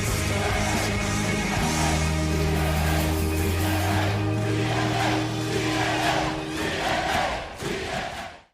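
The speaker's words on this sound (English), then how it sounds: "Listen to that crowd all into it because they played it inside." Wrestling arena crowd roaring for the return of TNA Wrestling, a loud, sustained wall of cheering with chanting and entrance music tones underneath, fading near the end.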